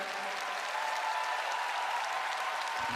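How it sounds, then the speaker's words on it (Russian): Steady, dense applause from a large audience fills a figure skating Grand Prix ice arena in Krasnoyarsk, continuous clapping at an even, loud level throughout. "Дальнейшее прохождение игры невозможно без ваших громких аплодисментов"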